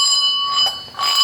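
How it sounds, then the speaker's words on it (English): A shame bell sound effect rings as a bright, sustained metallic bell tone, loud and close, with a brief dip in the middle before it sounds again. "I think it's ready to take out the shame bell"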